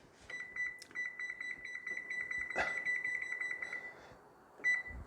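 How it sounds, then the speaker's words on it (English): A kitchen timer set while keto chocolate donuts bake gives a rapid run of high, thin electronic beeps close by. The beeps pause briefly, resume, then stop, with a short final burst near the end and no speech. "Timer on."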